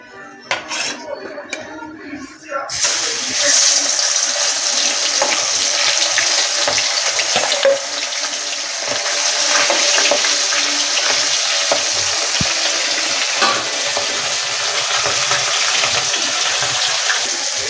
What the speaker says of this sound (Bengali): আমার তেলটা গরম হয়ে গেছে, আমি মাছ দিয়ে দেব।